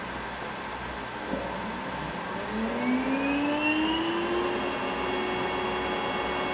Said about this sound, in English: I will now switch on the cooling unit and wire the control panel with the according regulation.